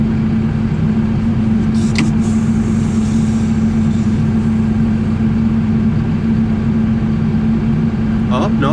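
A front loader's engine runs steadily throughout, a constant mid-pitched hum with a droning tone, holding an even level from start to finish.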